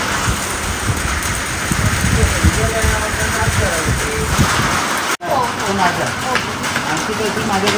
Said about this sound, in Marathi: बघता जेवता जेवता मस्त असं पाऊस सुरू झाला